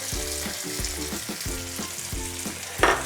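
Garlic and parsley fry in a hot pan with a soft, steady sizzle, broken by a regular beat of stirring scrapes and a brighter hiss near the end. No one speaks.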